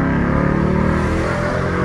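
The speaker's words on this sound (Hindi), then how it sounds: "और एग्जॉस्ट की साउंड भी गाइस अलग ही लेवल की हो जाती है जब स्पोर्ट्स में" A Ford Mustang in sport mode revs its exhaust in a loud, continuous burst of engine roar close by, with no one talking over it.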